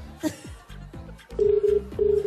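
Several telephones ring in a busy studio during a Filipino noontime TV variety show, their steady electronic tones pulsing in short bursts alongside voices talking.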